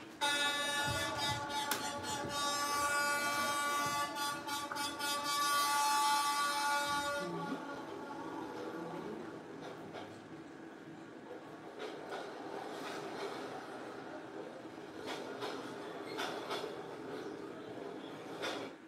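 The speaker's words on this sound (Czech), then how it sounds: "taky místo, kterým projíždí vlak" A train rolls through narrow Train Street in Hanoi, its horn blaring loudly at first, then rumbling wheels and clattering cars passing close by in a long, steady roar.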